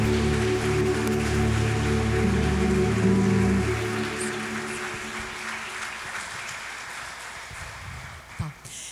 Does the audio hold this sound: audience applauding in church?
yes